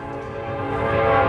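Train passing close by at a rail crossing, a steady loud rumble with a sustained tonal horn blast that builds slightly in loudness.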